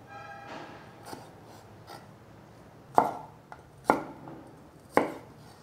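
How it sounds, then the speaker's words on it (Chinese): Kitchen knife slicing purple asparagus diagonally into strips on a cutting board, a few soft strokes followed by three crisp, evenly spaced chops, close and alone. "把芦笋斜切成条状。"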